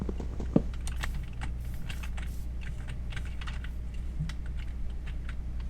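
Rapid clattering of computer keyboard typing, steady and close, continuing without pause and without talk.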